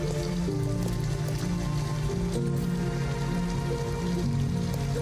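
Steady rain falling in Detroit: Become Human, a continuous dense patter mixed with a low, droning hum that holds an even level throughout, with no speech.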